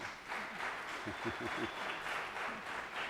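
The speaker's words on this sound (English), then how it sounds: "they're applauding that" Audience applause at a communications talk, moderate and steady clapping with a voice speaking briefly over it near the middle.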